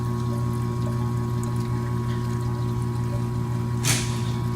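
Coolant drains and pours steadily out of the engine of a 40k-mile SAAB 9-5 that needs a new head. A low, constant hum sits under the trickle, with a brief louder splash near the end.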